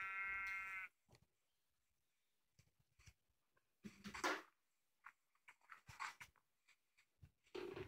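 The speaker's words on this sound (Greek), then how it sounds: "έχω βρει μαύρο πρόβατο" A Minecraft sheep, including a black one, gives a loud harmonic bleat at the start and another near the end, with soft clicks and in-game rustling between.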